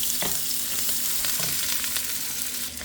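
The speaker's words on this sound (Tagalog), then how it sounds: "Ayan, haluin natin." Adobong sitaw with fried fish being stirred in a pan, with scraping strokes against a soft continuous sizzle, close and moderately quiet.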